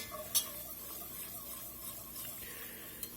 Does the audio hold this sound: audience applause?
no